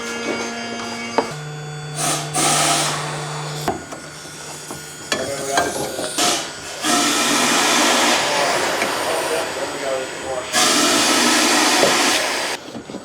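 Compressed air hisses in loud bursts through the fuel line of a long-stored Ford Thunderbird, several blasts of varying length separated by short pauses and quieter mechanical noises.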